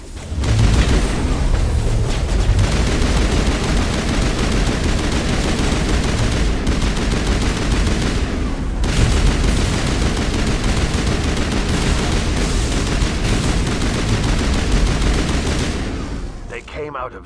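Sustained gunfire from a Mass Effect firefight in a lab, dense overlapping automatic bursts and shots going loud and continuous for the whole stretch, with booming impacts mixed in and no pause until a brief dip near the end.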